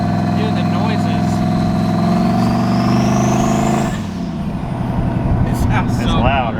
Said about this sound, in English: It's loud, right? Like all the turbo noises.